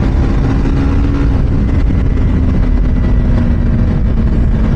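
A KTM RC 390 motorcycle downshifts on an Independence Day group ride, its engine a loud, steady drone under heavy wind rumble, with no talking.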